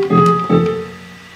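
Two synthesized MIDI notes, played from a Guitar Hero controller through a serial-to-MIDI converter, sound in quick succession, each a bright tone struck sharply and then fading, the second ringing out longer.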